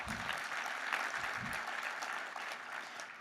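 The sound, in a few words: audience applause at a conference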